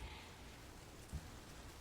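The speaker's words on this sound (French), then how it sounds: "Oui, il pleut." Steady rain falls as a soft, even hiss throughout, with one faint dull thump partway through and no voices.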